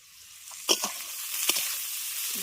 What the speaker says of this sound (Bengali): ঢাকা দিয়ে আলুটাকে খুব ভালো করে ভেজে নিয়েছি